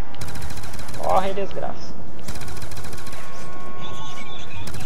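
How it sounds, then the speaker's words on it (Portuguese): Rapid automatic gunfire in Call of Duty Black Ops 2 Zombies on the Tranzit map, loud sustained bursts with a brief pause, mixed with someone shouting over it. "O zumbi tá subindo lá, vamos dar uns tiros aqui."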